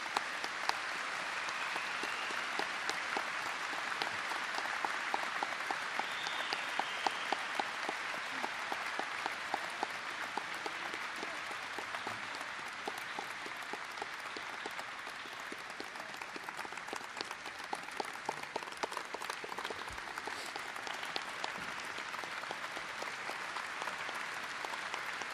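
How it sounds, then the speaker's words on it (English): An audience at the Memphis Belle aircraft ceremony applauds steadily for the full stretch, a dense, even wash of clapping with no voices over it. "let's have one more round of applause for this magnificent aircraft"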